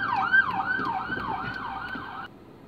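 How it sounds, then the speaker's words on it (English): A wailing ambulance siren sweeps up and down repeatedly, fairly close and loud as it passes, then cuts off abruptly. "Let's just let this ambulance through."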